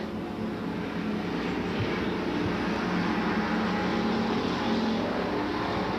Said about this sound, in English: the rest of the pack comes thundering by